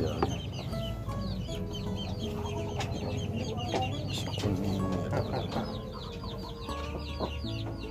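A Pelung hen clucks repeatedly while laying an egg, with a run of close, irregular clucks and squawks over a busy background of other fowl calling, no talking.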